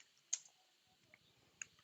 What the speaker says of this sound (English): I don't know what I'm typing, but let's type something.